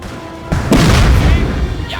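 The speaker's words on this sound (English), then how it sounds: "Oh look, here comes the cannon crew. They come to join in the shooting." A deep, booming cannon blast from a Napoleon: Total War battle hits loud and close, its rumbling roar sustained and slowly decaying for over a second.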